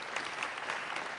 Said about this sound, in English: Let's give a round of applause to everybody who was involved in that